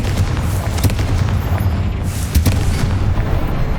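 A fiery Confringo spell bursts against spider webs in the Hogwarts Legacy video game, with heavy booms striking twice over a constant loud rumbling backdrop.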